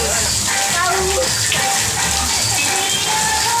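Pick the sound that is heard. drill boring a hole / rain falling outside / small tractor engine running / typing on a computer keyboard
rain falling outside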